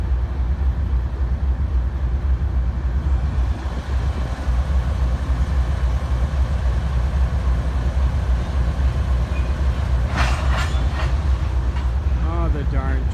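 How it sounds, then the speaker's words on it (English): A Union Pacific coal train rumbles steadily past near the King Power Plant in Bayport, Minnesota, a continuous low heavy roll with a brief higher screech near the end, while people talk quietly over it. "the darn train"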